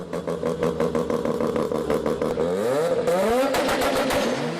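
Three-rotor rotary engine in a car idles with a rough, buzzing pulse, then its pitch sweeps upward as it is blipped and revved. It is loud and close, with no voices.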